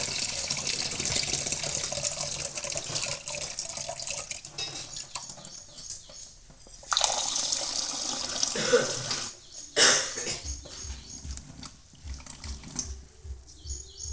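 Tap water runs over mixer-ground khapli wheat being rinsed in a kitchen, a steady splashing stream with louder bursts and clinks of a vessel near the middle and end.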